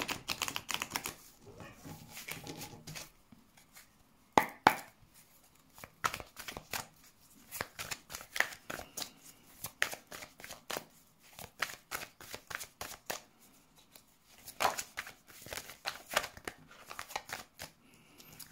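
Oracle cards are shuffled by hand in a quiet room, making repeated soft riffling snaps and rustles in uneven bursts, close and alone.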